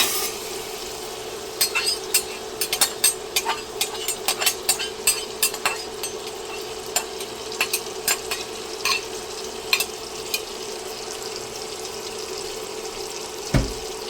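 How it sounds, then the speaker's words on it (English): Onion sautés in melted butter and ground beef fat, a steady sizzle broken by frequent sharp spoon clicks against the pan, near and moderately loud, with no one talking. "Once my butter has melted, I'm going to go ahead and saute my onion."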